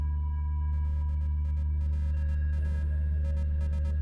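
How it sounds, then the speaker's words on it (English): Rapid Morse code beeps from a steady electronic tone, a quick run of short and long pulses in uneven groups over a constant low hum, with no voices. "that's Morse code"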